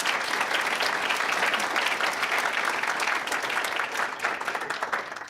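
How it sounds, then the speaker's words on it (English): An audience at a 2017 student life awards banquet breaks into loud, sustained applause, a thick wash of many clapping hands that holds steady throughout and tapers slightly near the end. "Please join me in a round of applause"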